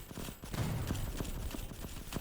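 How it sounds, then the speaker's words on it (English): Turrets in Endzone 2 fire a quick, steady run of muffled shots over dense game ambience, fairly faint and evenly spaced throughout. "these turrets are doing some damage."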